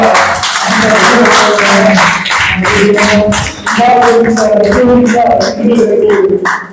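An audience claps steadily throughout a Harikathe devotional storytelling performance about Bhakta Prahlada, dense loud applause while someone speaks over it on a public address system.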